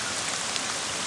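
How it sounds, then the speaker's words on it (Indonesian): Rain falling in a video game, a steady, even hiss of downpour with no distinct drops standing out and no talk over it. "Ternyata mau hujan ya"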